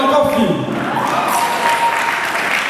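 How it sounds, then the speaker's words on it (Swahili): Audience in a hall applauding at a comedy show, a burst of clapping with voices mixed in at first, then the applause carries on steadily before easing slightly. "Jamani makofi."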